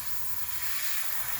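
An airbrush sprays a very light coat of black acrylic paint onto a miniature, giving a steady, close airy hiss that runs unbroken throughout with no talking.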